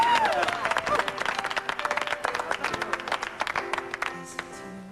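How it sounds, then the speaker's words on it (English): Audience applause at a recital, a dense patter of clapping hands filling the room at steady volume, with a few voices and tonal sounds mixed in beneath. "How about a little round of applause for Dawn?"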